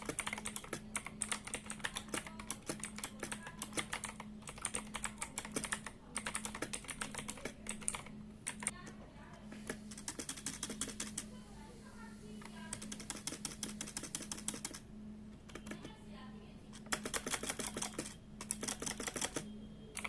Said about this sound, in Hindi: आप में से जितने लोग इस कीबोर्ड का साउंड सुनना चाहते हो तो ये रहा